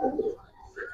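A young male racing pigeon gives a single short, soft coo close by, lasting under a second with a brief pause before the call resumes.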